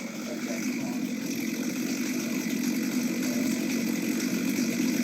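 A chainsaw runs steadily during a live wood carving demonstration at the 2022 Iowa State Fair, its loud continuous buzz holding without pause and filling the whole stretch over a busy fairground background.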